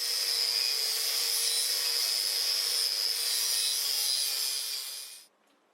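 Freshly welded rudder horns being cleaned in a workshop: a steady, close, loud abrasive scrubbing hiss with a faint underlying hum runs for about five seconds, then cuts off abruptly into quiet, with no talking.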